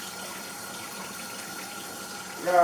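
Water poured into a pot to rinse food, a fairly quiet continuous trickling wash with a brief louder clatter or voice at the very end.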